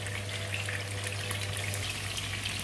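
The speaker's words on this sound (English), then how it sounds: "Just let it fry for a while." Half of a large fish head, from a 5 kg fish, fries steadily in a pan, giving a continuous even sizzle with a low hum underneath and no talking.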